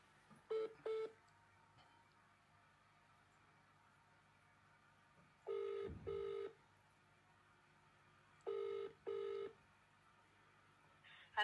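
Dual-tone dialing beeps on a telephone line during a call transfer, arriving in short paired bursts separated by long stretches of quiet line hiss, clear and close.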